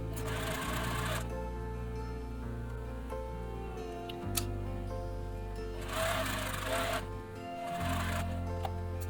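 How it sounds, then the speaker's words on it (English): A home sewing machine runs steadily while stitching around the curved outer edge of a 1940s-style blouse collar, its fast mechanical whir continuous with brief speed changes, close and moderately quiet, with no talking. "we can just sew around that outside edge, making sure we're kind of trying to keep that curve as smooth as we can"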